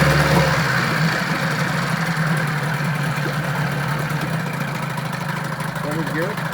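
A 1991 Johnson 15 hp outboard motor runs steadily in a test tank, a continuous close, loud engine drone with water churning and no breaks.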